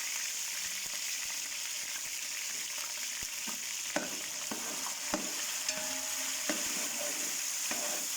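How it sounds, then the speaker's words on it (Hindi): Soaked rice frying in ghee for gajrela, a soft continuous sizzle with occasional light taps and scrapes of a spoon, close but fairly quiet. "अब घी के साथ मैं इसमें जो चावल मैंने भिगो के रखे थे वो मैं ऐड कर रहा हूँ"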